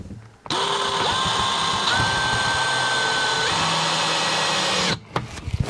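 A powered screwdriver drives a screw into a wooden van kitchen locker, its motor whining steadily for about four seconds with pitch stepping up as the screw seats, then cutting off sharply, close and loud.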